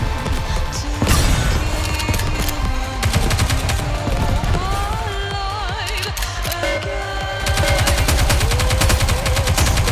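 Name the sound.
gunfire in Goddess of Victory: Nikke video game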